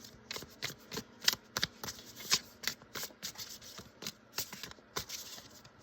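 Rapid riffling of playing cards in a card game app in several quick bursts, crisp and close, with short pauses between shuffles and no talking.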